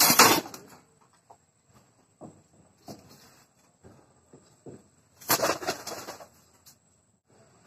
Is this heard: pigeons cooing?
yes